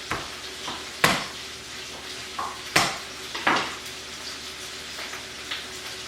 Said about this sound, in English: While my pork chops are browning